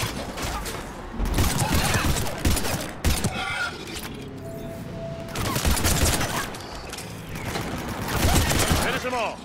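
Bursts of gunfire from the shooter game Mass Effect 3, several loud volleys spread across the clip, with quieter stretches between them and voices speaking in between.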